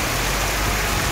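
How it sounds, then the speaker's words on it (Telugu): Heavy rain falling in Goa during a holiday trip, a dense, even hiss of drops that stays loud and unbroken throughout the short stretch. "వర్షంలో మొత్తం తడిసిపోతున్నాం మేము అందరం"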